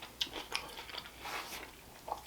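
Close, quiet chewing of Chinese noodles at a restaurant meal, with soft wet bites and small crunchy smacks coming in irregular bursts.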